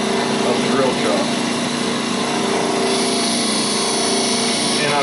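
A wood lathe spins a ring held in a drill chuck, giving a steady continuous motor whine with a constant droning hum that stays loud and close for the whole stretch.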